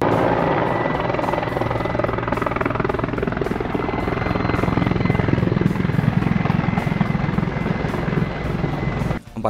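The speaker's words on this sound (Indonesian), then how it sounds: "133 unit helikopter serang Mil-Mi-24 buatan Uni Soviet." A Soviet-built Mil Mi-24 attack helicopter of the Ukrainian Army flies close by, its rotor and turbine making a loud, steady throbbing roar that holds for the whole stretch and cuts off abruptly at the end.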